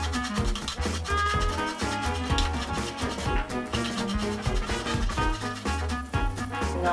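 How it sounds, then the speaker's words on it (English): Carrot being grated on a metal grater, rapid repeated rasping scrapes in a quick back-and-forth rhythm, close and fairly loud, continuing throughout without speech. "slide the carrot along the top, along the ridges to make it into grated carrot"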